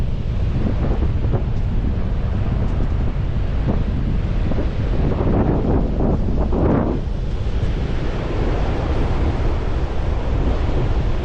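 Ocean waves break and wash onto the shore on a windy beach, a loud continuous roar with a surge building and crashing midway, heavy wind buffeting the microphone throughout.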